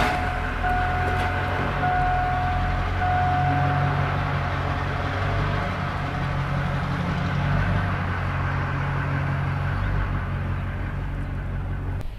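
A noisy diesel truck rumbles steadily nearby with a low, continuous engine drone and some rattling, moderately loud and without talk.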